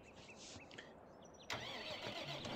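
A tractor engine starting in the video game Farming Simulator 15, a cranking whir that catches and settles into a steady idling rumble, alone and fairly close.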